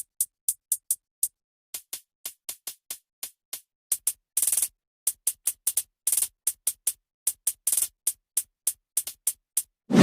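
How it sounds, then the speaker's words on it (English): Crisp, bright hi-hat hits tick in a steady pattern, with a few longer open-hat splashes mixed in; layered top-end percussion playing alone, no voices. "In hi-hats I just stacked a layer on it,"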